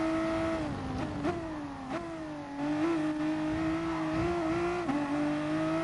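Car driven erratically on a track in Sardinia, braking late: a steady engine drone rising and dipping in pitch with repeated throttle lifts and revs, close and continuous.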